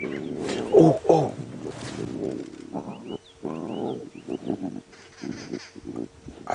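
Lion cubs at a safari feeding growl, snarl and squabble in bursts of rough, close calls, with birds chirping faintly in the background.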